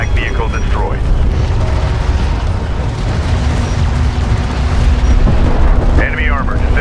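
Heavy rumbling explosions as a light attack vehicle is destroyed in the desert strategy game Homeworld: Deserts of Kharak, a loud continuous boom with faint radio voices speaking at the start and end.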